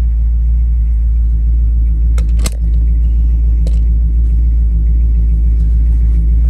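A 1960 Chevrolet Bel Air with a 3.23 rear gear rumbles steadily and deeply up close, with a couple of brief metallic clinks partway through.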